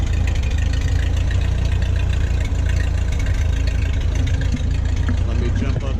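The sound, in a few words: Ford 8N tractor engine running with new muffler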